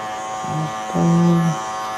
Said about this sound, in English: The wall seniors is the only clipper. These kind of loud,